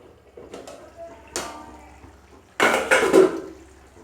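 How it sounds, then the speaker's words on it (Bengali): A metal lid is set onto a cooking pot of hilsa fish bhuna, giving a few soft clinks followed by a louder rattling clatter of metal on metal, close by in a quiet kitchen. "একটু ঢাকনা দিয়ে দেব।"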